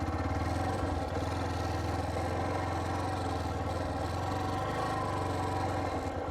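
A motorcycle engine runs close by on grassland near the forest at Kabini, a steady mid-pitched idle with light clatter throughout and no voices.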